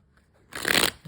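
Tarot cards being shuffled in a single quick riffle lasting about half a second, close and clear, after a near-silent start.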